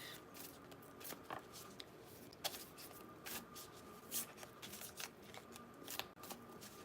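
Tarot cards being shuffled by hand, a soft papery riffling and flicking that repeats in irregular bursts, quiet and close against faint room noise, with no talking.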